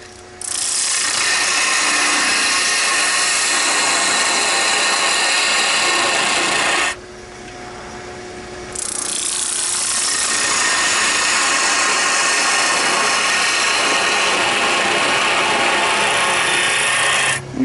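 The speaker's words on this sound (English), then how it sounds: "I'm going to get my regular spindle gouge. You see it's a little bit smaller, has a little sharper point. I'm going to start to form the head of the mushroom." A spindle gouge cuts a mushroom head on a spinning wood lathe, giving a loud, steady, close scraping hiss that dips briefly as the tool lifts off and then resumes, with no talking.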